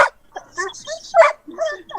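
An excited puppy yips and barks in short, high bursts with whimpering between them, close and fairly loud, mixed with brief bits of nearby human speech.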